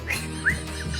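Shrill whistle blasts from a bus conductor aboard a crowded bus, several short rising chirps over a steady low engine drone, fairly close, with no talk.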